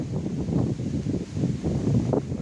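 Strong gusts blow beside Tikub Lake in Tiaong, Quezon, buffeting the microphone in continuous low rumbling waves, with leafy rustling from the surrounding woods and no voices.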